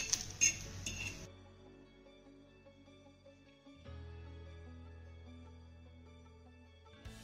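Fried eggplant slices lifted off a pan onto a plate: a brief cluster of metal clinks and scrapes at the start, then a long quiet stretch with only a low hum.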